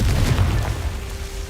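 A Confringo fire spell detonates in Hogwarts Legacy, a dull booming blast with a low rumble that lingers loud and steady through the short moment, with no talking.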